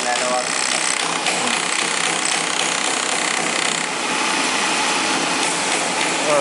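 The grinding wheel of a computerized skiving machine runs with a continuous rasping, whirring drone while people talk over it throughout.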